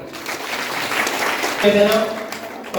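Applause from the gathered audience at a temple honouring ceremony in Germany, a steady wash of clapping under an announcer's voice, with a brief tonal instrument phrase rising through it midway.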